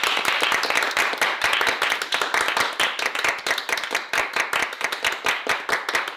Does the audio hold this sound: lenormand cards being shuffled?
no